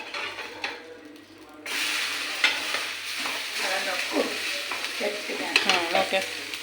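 Dabba rotti, a thick Andhra rice-batter flatbread, frying in oil in a pan, with a steady sizzling hiss that swells after a quieter opening and runs on with light stirring and scraping noises.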